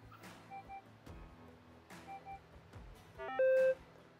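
Minelab GPX 6000 metal detector powering up and running its short auto tune, giving a few soft electronic blips and then a loud rising stepped beep sequence ending in a sustained tone.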